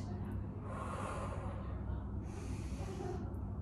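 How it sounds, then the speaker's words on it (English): Slow, deep breaths rush in and out close to the microphone, two long airy inhale-exhale swells with a soft snort-like edge. "take deep breaths"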